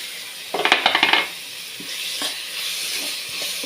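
Crushed ginger, green chili and garlic get dropped into hot oil with frying onions for a Malayalam-style masala gravy. A burst of sharp crackling and spattering hits first, then settles into a steady sizzle with a few light stirring clicks.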